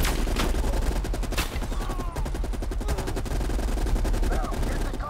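Rapid machine gun fire bursts in the Call of Duty: Cold War campaign, loud dense repeating shots across the whole stretch with other gunfire mixed in, and no talk heard.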